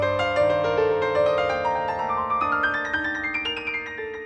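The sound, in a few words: dry piano sound without reverb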